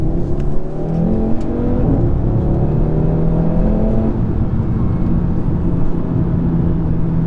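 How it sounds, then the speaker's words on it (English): A 2017 Audi RS3 Saloon's exhaust drones loudly and steadily from inside the cabin, its engine note rising slightly as the car accelerates. "And also makes the exhaust sound very nice."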